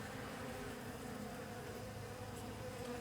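A steady, dense buzzing of many honey bees during a hive inspection, close and continuous throughout with no voices.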